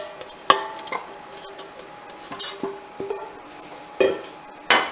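A spatula scrapes sourdough pizza dough out of a bowl into a mixer, giving intermittent scrapes and clinks against the bowl with quiet gaps between, close and fairly soft.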